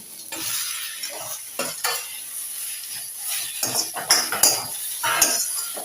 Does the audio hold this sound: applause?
no